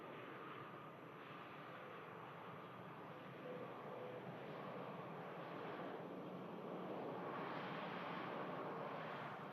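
An Airbus A321 with Sharklets at Manchester Airport gives off a distant, steady jet engine roar that swells gradually, heard faintly and alone with no talk.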